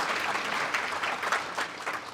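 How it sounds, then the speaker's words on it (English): Audience applause fills a chamber of commerce annual meeting room in East Alabama, a steady sustained round of clapping from a large crowd with no talk over it. "A large round of applause for all of our platinum members."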